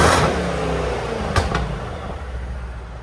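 Mercedes C63s AMG with a 4.0L bi-turbo V8, upgraded turbos, upgraded downpipes and straight pipes, roaring loudly and close, then falling to a rumbling idle after a couple of sharp blips.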